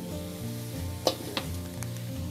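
Chili peppers soften and roast in a wok-style pan, giving a soft, even sizzle with two or three sharp utensil scrapes and taps, fairly quiet and without speech.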